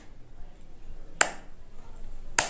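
Two crisp hand claps set off a homemade clap switch circuit, about a second apart, loud and close over faint background hiss, with no speech.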